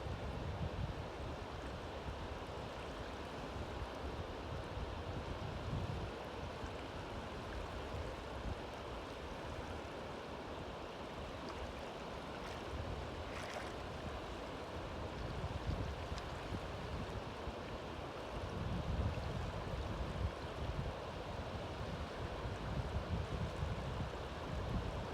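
Steady wash of sea waves rolls in continuously, a broad rumbling surf with wind across the microphone, no voices.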